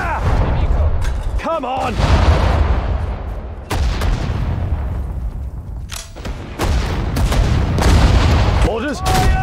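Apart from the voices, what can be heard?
gunfire and artillery from video game Sudden Strike 4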